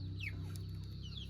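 A few soft clucks from chickens nearby, with chirpy calls over a low steady background hum.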